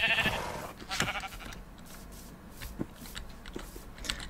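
A short, wavering sheep bleat from Minecraft opens the moment. Scattered crunchy footstep-like taps and clicks follow at a moderate volume, without speech.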